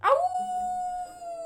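A single wolf howl as a storybook sound effect, starting with a sharp yelp-like rise and then settling into one long, clear, steady tone that fades slightly near the end.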